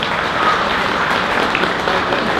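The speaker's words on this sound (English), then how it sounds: "please have a big round of applause for Team Project Tibet Society and all the supporters" A crowd applauds Team Project Tibet Society and its supporters at a Tibetan resettlement gathering in Canada, a dense, steady wash of clapping that fills the short moment at close range.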